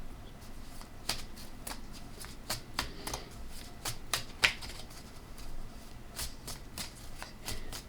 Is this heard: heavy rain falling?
no